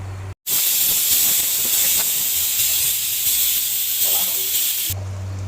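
Loud, continuous hiss of steam rushing out of a pressure cooker whistle while cooking mutton curry, starting abruptly and holding steady for several seconds before cutting off.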